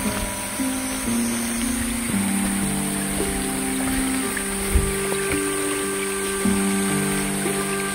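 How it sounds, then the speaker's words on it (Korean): Heavy rain pours over a farm field of pumpkin and corn, a steady, dense hiss of water throughout with no talking. "갑자기 왜 또 비가 많이 오는 거야?"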